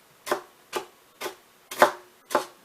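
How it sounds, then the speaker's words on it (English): Dried bread chopped into small crunchy bite-sized pieces, five crisp evenly spaced knife strokes crunching on a board, close and clear with no talk. "And you're just chopping it into little bite-sized pieces."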